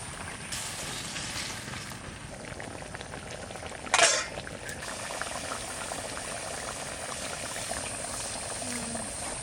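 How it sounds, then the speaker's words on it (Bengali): Shol fish drop into a mustard sour curry with amra that is boiling steadily, with soft, constant bubbling broken by one brief splash partway through. "এবার মাছগুলো দিয়ে দেবো।"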